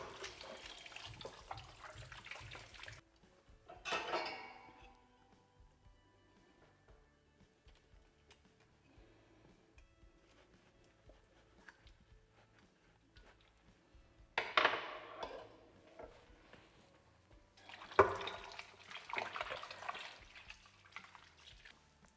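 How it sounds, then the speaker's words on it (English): Tap water running over an octopus as it is washed in a kitchen sink, a quiet splashing flow that surges in several louder bursts between softer trickling stretches. "First, I will wash it very well."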